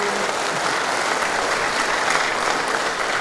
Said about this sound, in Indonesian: Tepuk tangan yang meriah sekali.